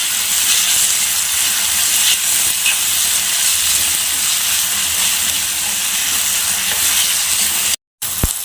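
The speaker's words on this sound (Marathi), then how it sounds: "आणि तो चांगला नरम पडेपर्यंत आपण परतून घेऊया।" Chopped tomato sautés in a pan, giving a loud, steady hiss that runs without a break, then stops abruptly near the end with a brief knock after it.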